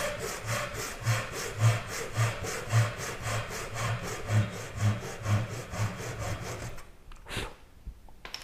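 Handsaw cutting a diagonal through wood for a simple wooden tray, close and steady with about a dozen rhythmic back-and-forth strokes, then stopping into near silence with one faint knock.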